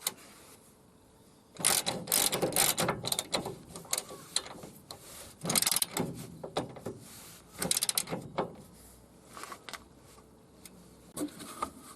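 Ratchet cranking a spring compressor on a VW T25 front shock absorber, heard as bursts of quick metallic clicking separated by pauses, close and moderately loud with no talking.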